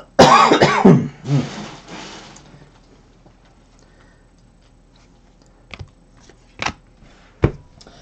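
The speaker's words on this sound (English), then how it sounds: "The worst is it's just that dry tickle cough." A dry, tickly cough bursts out close to the mic in rough hacking spasms, then the room falls quiet apart from a few sharp clicks while trading card boxes are opened.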